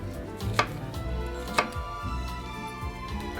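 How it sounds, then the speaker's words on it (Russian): A knife chops an onion lengthwise on a board while preparing plov: three crisp, close strikes spaced about a second apart, with no voices. "Непременно вдоль, потому что так каждая чешуйка лука гораздо прочнее, чем лук, порезанный полукольцами."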